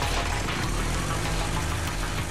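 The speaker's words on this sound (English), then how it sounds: "what sounds like an exhaust system is really the sound of a pressure gauge measuring the airflow inside the new engine" A Suzuki GSX-R 1000 engine on the assembly line being spun by an electric motor for a compression test, giving a loud, continuous engine-like drone with dense pulsing, close and steady, with no talk.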